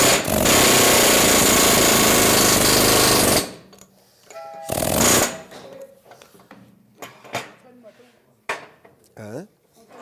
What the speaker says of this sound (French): on appelle ça un zip gun, là, mais c'est le même principe qu'un marteau-piqueur